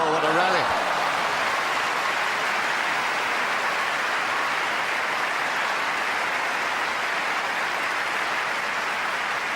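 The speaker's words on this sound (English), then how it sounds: "no wonder they're applauding this one loud and long" Loud, sustained applause from a Wimbledon crowd after a long grass-court tennis rally in a 1992 second-round match, a dense, even roar of clapping that carries on steadily for the whole stretch.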